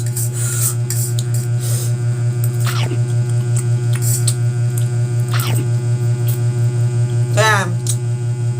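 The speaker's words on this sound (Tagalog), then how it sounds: "May electric fan kasi ako dito sa gilid siya, medyo maingay siya" An electric fan hums nearby with a constant low drone and a faint rhythmic pulse throughout, while a person speaks over it.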